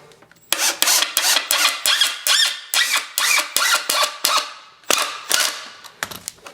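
Cordless drill driving a screw into soft wood while building a workbench, a fast rasping, ratcheting burst of repeated clicks lasting several seconds, loud and close, with brief pauses near the end.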